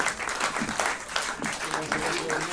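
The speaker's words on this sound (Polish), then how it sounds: "Wielkie brawa dla tych wszystkich muzyków, drodzy Państwo." A concert crowd applauds at a music-and-film marathon in Skoczów, with steady clapping filling the hall while someone speaks over it throughout.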